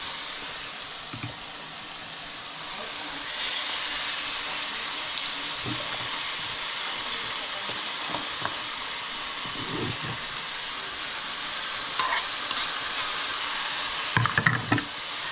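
Meat sizzles and fries steadily in a pan during a sour cream meat stew, with occasional stirring clatters and a louder burst near the end.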